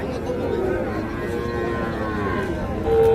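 A small crossbred calf moos at a busy cattle market in Hazratpur near Dhaka, a drawn-out bovine call over a steady murmur of crowd chatter.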